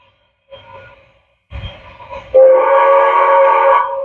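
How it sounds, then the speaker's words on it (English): A loud, steady electronic horn from an MTH Hudson model locomotive blares for a couple of seconds after brief mechanical chuffing and hissing sounds, close and clear. "Nice loud horn"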